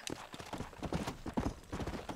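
Horse hooves clip-clop in a steady, fairly close rhythm in the Red Dead Redemption video game, sounding continuously with no talk over them.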